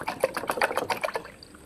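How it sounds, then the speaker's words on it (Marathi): Water is poured into yogurt in a bowl for Maharashtrian kadhi, giving a close, bubbling splash with rapid gurgling pulses for about a second before trailing off; no talk. "त्यात पाणी टाकायचं"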